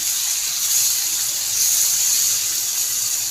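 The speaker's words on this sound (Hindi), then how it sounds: "पानी डाल दूँगी।" Water poured into a cooking pot holding bitter gourd, onion and tomatoes, a steady soft gushing splash that runs evenly throughout with no talking.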